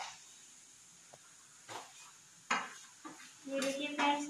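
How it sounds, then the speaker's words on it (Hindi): Halwa cooks in hot pure ghee, with intermittent stirring scrapes and clinks of a spoon against the pan over a soft background, the sizzle rising toward the end. "और देखिए घी गरम हो गया फ्रेंड्स, और मैं अब हलवा बनाने जा रही हूँ"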